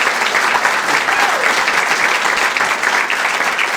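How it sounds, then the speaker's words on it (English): Audience at a Keep Knoxville Beautiful summit gives a steady round of applause, dense, loud clapping sustained throughout without voices. "So can we give a round of applause?"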